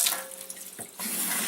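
Cold water running through a Leveluk K8 Kangen water ionizer on first use, a splashing tap-like flow that dips briefly, then returns as a steady, louder rush.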